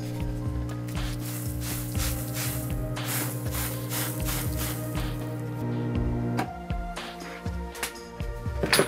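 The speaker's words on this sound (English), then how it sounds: "Spraying it with water makes a neat sound too." Water sprayed onto red-hot metal in a microwave-transformer melter gives a steady hissing, sputtering spray with repeated bursts, fairly close and alone without talk.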